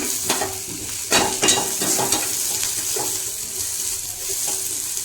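About a spoonful of oil sizzling in a pan over low gas, a steady bright hiss with scraping stirs and clinks of a spatula, close and continuous without voices.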